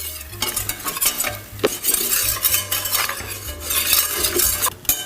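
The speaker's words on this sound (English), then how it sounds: "We'll whisk this together and then cook for about 4 to 5 minutes, allowing that flour to get cooked" Whisk working all-purpose flour into melted butter in a pot, a busy rhythmic scraping and clinking of metal against the pan over a low sizzle, with bursts of faster strokes.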